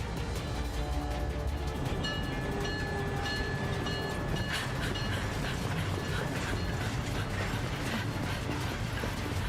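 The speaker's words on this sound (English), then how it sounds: "The train for the airport is about to depart." A train departs for the airport in Syberia: The World Before, its steady rolling rumble and rail clatter filling the scene with constant, loud mechanical noise and faint metallic ringing.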